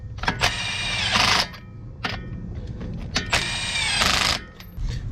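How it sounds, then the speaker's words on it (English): A Milwaukee impact wrench tightens wheel spacer lug nuts on a vehicle hub in a star pattern. It fires in several loud, hammering bursts, each separated by short pauses, up close with no talking. "put your Milwaukee on number 1. Bring it down in a star pattern"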